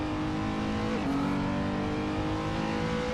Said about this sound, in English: I can listen to that car's engine all day